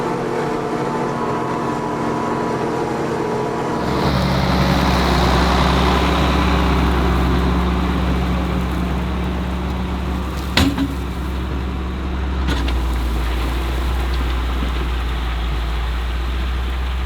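A tractor pulling a plough grunts under load, its deep steady engine drone rising in strength partway through as the turbo spools up, loud and close with a couple of sharp knocks.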